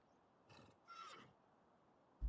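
A horse in a video game gives a short neigh and whinny at mid-distance over a quiet background, followed by a sharp low thump at the end.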